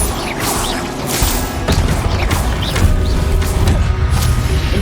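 Incendio fire spell effects in Hogwarts Legacy, a series of loud whooshing bursts and crackling impacts one after another over a rumbling game backdrop.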